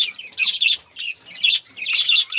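Small birds in an indoor aviary chirp and squawk in loud, bright bursts, clusters of shrill calls coming close together with brief pauses between.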